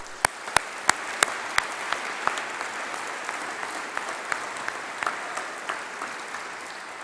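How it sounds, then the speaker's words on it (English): A crowd in a great hall at a winter graduation ceremony claps steadily at a moderate distance, with a few sharp individual claps standing out at first, then a dense, even patter. "Let's give them a round of applause"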